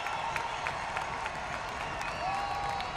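A sellout stadium crowd at Toyota Field cheers during a San Antonio FC versus Colorado Springs Switchbacks soccer match, heard as a faint, steady, distant roar of clapping and voices.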